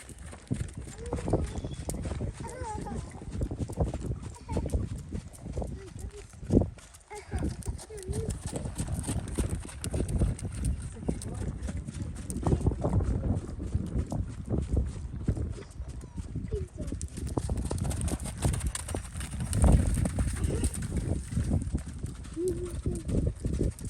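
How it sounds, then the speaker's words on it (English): A horse's hooves clip-clop in an uneven rhythm while people talk over them, with faint birdsong in the background. "he's a very forward-moving horse."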